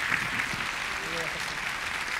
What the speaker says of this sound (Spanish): les den un aplauso aquí en el nombre de Cristo